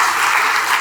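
Applause for the team after the launch of the Vikram-S rocket, India's first privately built rocket, heard as a brief, loud, dense burst of clapping from a crowd.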